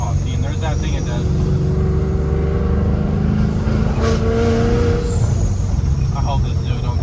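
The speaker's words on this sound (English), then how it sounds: "Look at that perfect rev match." A supercharged Ford Mustang GT revs its loud exhaust up and down with a rising supercharger whine, heard from inside the car with a person talking over it.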